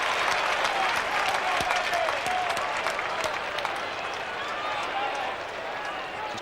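A large football crowd at the MCG roars and cheers after a goal in a 1987 Melbourne v Collingwood match, a sustained dense wall of noise with claps and shouts, steady and loud, with commentary speech over it.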